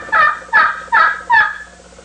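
A wooden box turkey call worked with chalked strokes gives four loud, close, raspy yelps in an even rhythm, each a short scratchy note, with nothing else heard.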